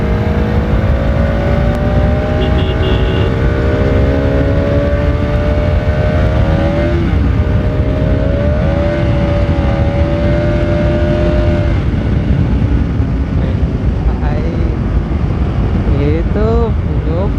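A superbike on a public road revs hard and close, its engine pitch climbing in long, loud sweeps, dropping, then climbing again over a constant rumble.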